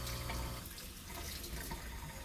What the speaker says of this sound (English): we're going to rinse it off because we want to get those chemicals off of our cassettes